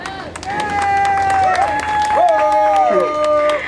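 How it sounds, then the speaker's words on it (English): Applause and cheering from a crowd gathered for the legal team at a court date, with loud voices calling out over the clapping. "let's give an applause to the legal team"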